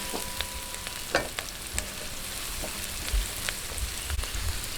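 Garlic and onion fry together in a pan for a creamy carbonara, a steady close sizzle with scattered crackles and pops and occasional stirring clinks.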